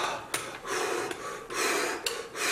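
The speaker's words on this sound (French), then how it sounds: "Regarde, je reprends de l'air." A character in the video game Another World surfaces and gasps for air, giving several breathy rushes of air separated by sharp short clicks, fairly faint and with no talk.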